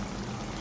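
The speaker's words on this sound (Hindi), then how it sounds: "तकरीबन आधा गिलास के करीब ऐड करूँगी ताकि जो कद्दू हैं ये गल जाएं" Water poured into a pot of sautéed bottle gourd and chana dal with green chillies, a steady broad splashing pour that runs continuously through the short moment without any voices.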